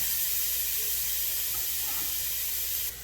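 Onion sautés in a hot pan with a steady, soft sizzling hiss that holds evenly and drops slightly at the end.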